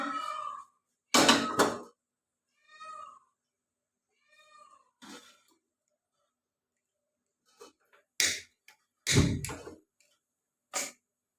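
Dishes and children's tiffin boxes are handled for washing at home, giving a few loud clattering bursts separated by quiet gaps, with some fainter tonal sounds in between.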